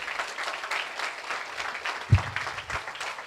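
Applause from an audience of parents and students at a stage performance, soft and steady rhythmic clapping throughout, with one louder thump partway through.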